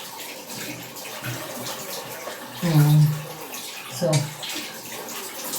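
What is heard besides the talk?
water running while rinsing face wash off face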